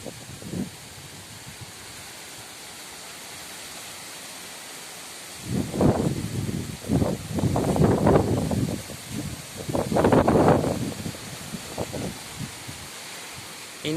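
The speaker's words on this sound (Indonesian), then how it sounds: "Ini anginnya muter sahabat ya." Strong swirling wind sweeps through tall coconut trees in the village of Kaligrenjeng, with a constant low rush broken by loud surging gusts and leafy rustling that rise and fade in waves.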